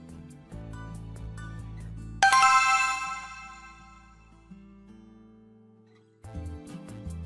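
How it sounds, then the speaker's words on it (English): A phone rings for an incoming call with a melodic electronic ringtone: a soft tonal pattern, then a bright chime that swells and slowly fades, and the tune returns at the end. "I have a missed call from you on my phone"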